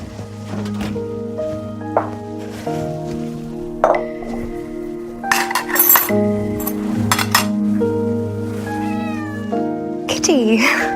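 A pet cat meows a few times indoors, short plaintive cries over soft background music, with a voice speaking nearby.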